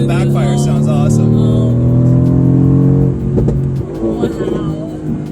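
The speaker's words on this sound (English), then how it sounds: "Oh, the backfire sound. The backfire sounds awesome." A 2018 Mercedes-AMG GT R engine revs loud and close in a sustained, droning pull, then settles into rougher bursts with crackling backfire pops, while excited voices talk over it.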